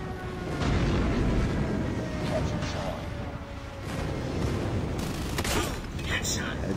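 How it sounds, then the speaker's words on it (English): Friendly airstrike in a first-person shooter, heavy booming explosions rolling in bursts with rumbling aftermath, loud and close, mixed with gunfire and game audio. "Friendly airstrike Alpha incoming."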